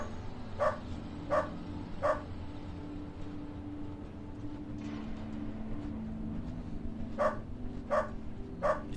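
A dog in the Underrail video game barks in two sets of three sharp, evenly spaced barks, separated by a pause, over a low ambient hum, fairly quiet overall.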